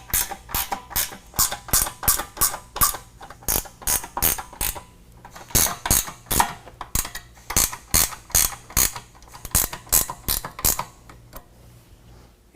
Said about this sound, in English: we're going to go back through, tighten everything down using a 13mm